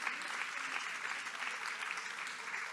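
Audience applause for a speaker at a book fair talk, steady dense clapping from a crowd throughout, fairly close and even in loudness.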